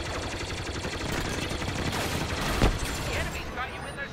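Starfighter blaster fire in the Star Wars Battlefront 2 video game, a rapid stream of pulsing shots over a dense engine roar, loud and continuous, with a sharp impact near the middle.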